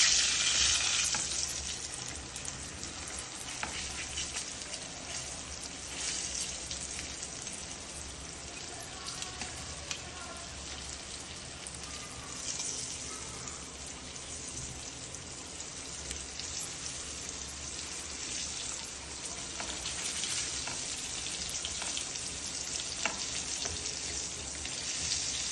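Pomfret fish fries in a pan after being turned over, giving a continuous close sizzle with crackling spatter and a few soft scraping touches, steady and without talk.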